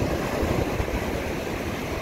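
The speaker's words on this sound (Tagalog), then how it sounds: "Grabe naman ang alon talaga." Ocean surf roars continuously, a dense, loud wash of large breaking waves with no pauses.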